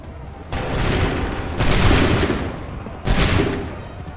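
Musket volleys in Assassin's Creed III crack out in three ragged bursts of massed gunfire, each a loud spread of overlapping shots with rumbling tails.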